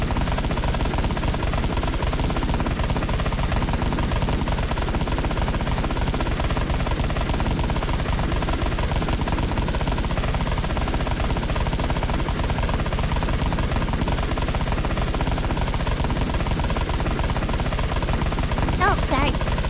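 Continuous gunfire in a video game, a relentless loud stream of automatic shots with no breaks across the whole stretch, dense and close.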